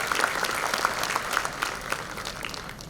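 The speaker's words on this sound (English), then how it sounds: "So this calls for a large applause for Dhruvik and his entire" A large crowd at the ICAI AI Innovation Summit in Gujarat applauds Dhruvik and his team, with steady, moderately loud clapping that runs evenly throughout and eases off slightly toward the end.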